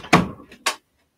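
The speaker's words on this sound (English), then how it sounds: "I'm going to just close the door here." A door pushed shut indoors during paper crafting gives a soft thud followed by a second short knock as it settles, both close by, then silence.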